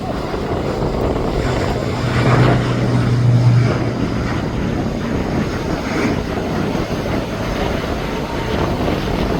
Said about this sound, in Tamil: ஃப்ளைட் வந்து ரன்வேயில் பறக்கிறது